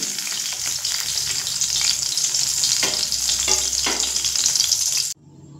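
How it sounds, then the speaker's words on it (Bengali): Fish frying in hot oil: a loud, continuous crackling sizzle with occasional stirring scrapes, close up, stopping abruptly near the end. "তো একইভাবে বাকি মাছগুলো ভেজে নিয়ে আমি ফিরে আসছি"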